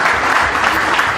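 A short burst of loud audience clapping, dense and continuous.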